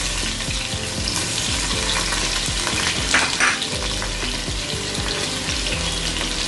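Onion, garlic and salt frying in hot oil for Bangladeshi papaya bhorta, a steady loud sizzle with stirring scrapes and clatter throughout, no talking.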